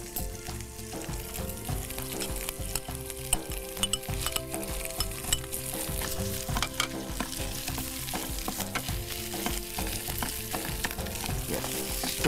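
Sliced onions fry in butter with garlic paste and chili, giving a dense, steady crackling sizzle close by, mixed with frequent stirring scrapes and faint utensil clinks throughout.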